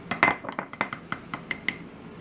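A spoon stirs coarse salt and cornstarch in a bowl, giving about a dozen separate metallic clinks and scrapes in an uneven rhythm. The sounds are close and moderately loud, and no one speaks.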